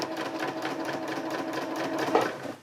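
A sewing machine stitching fabric for a DIY hammock, a close, steady, fast mechanical whir with rapid needle ticking that runs continuously and then winds down.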